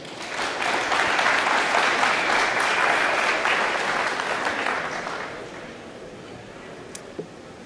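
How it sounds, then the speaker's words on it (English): Audience applause for Brody Nisbet at a threat hunting talk, a dense, steady crowd clapping that holds strong for about five seconds, then thins to scattered claps and fades. "So big round of applause for Brody."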